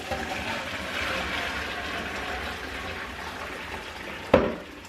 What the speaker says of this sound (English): So the sink is just draining super slowly.